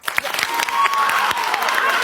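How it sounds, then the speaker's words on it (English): An audience claps in a brief burst of crowd applause with scattered cheering, sharp hand claps dotted through a steady roar that holds for about two seconds. "Clap if you think that she should trick him."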